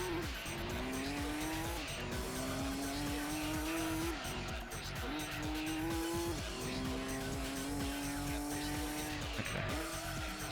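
A race car in Gran Turismo 2 lapping the Laguna Seca circuit, its engine note rising and dropping through gear changes while tires squeal through corners, loud and continuous.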